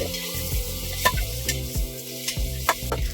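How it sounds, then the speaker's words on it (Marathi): Finely chopped onion being sautéed in a pan for mixed leafy greens, a steady close sizzle broken by repeated scraping strokes of a spoon stirring against the pan, no talking. "हा बारीक चिरलेला एक कांदा आहे तो आपण घालूया आपण छान मस्त याच्यात परतून घेऊया"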